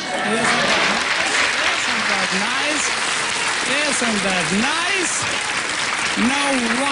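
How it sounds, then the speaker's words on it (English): Steady applause from a studio audience at a Christmas television show fills the background throughout, while someone speaks over it in a lively, sing-song voice. "Listen to all the applause you got there."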